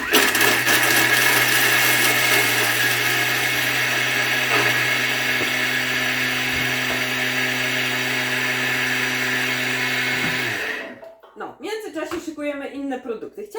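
A loud, steady high-speed whirring and grinding from a Thermomix grinding cheese at speed 9 runs for about ten seconds, then cuts off, leaving quiet talk.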